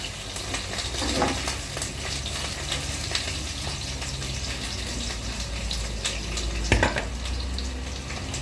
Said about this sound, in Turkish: Hemen şimdi hafiften bir kızartıyorum